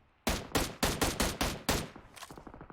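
Video game gunfire: seven loud, evenly spaced shots ring out one after another, followed by a quicker run of fainter, rapid pops trailing off at the end.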